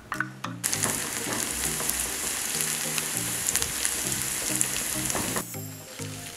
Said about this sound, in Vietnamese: Thanh sẽ cho hành tím băm nhỏ vào phi cho thơm.